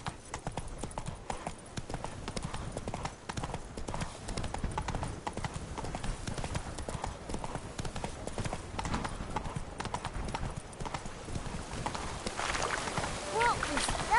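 A horse's hooves clip-clopping steadily in the Witcher 3: Blood and Wine video game, continuous rhythmic hoofbeats over dense ambient game sound with a voice speaking.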